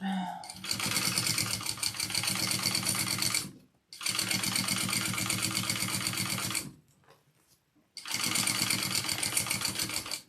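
A sewing machine stitches a thick connector seam on a backpack in three long, loud, steady bursts separated by short pauses, close by, with the bobbin nearly out.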